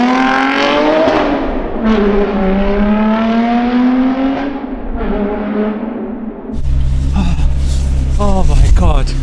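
Loud engine of a Porsche 718 Spyder RS pulling hard under acceleration with rising harmonic sweeps, then a shift to rougher broadband roar and wheelspin noise, voices talking over it inside the car.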